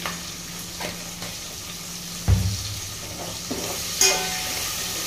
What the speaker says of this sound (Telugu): తొందరగా వేగడానికి కొద్దిగా సాల్ట్ వేస్తానండి